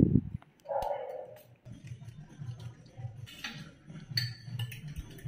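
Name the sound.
beating eggs with green chilli, salt and onion in a bowl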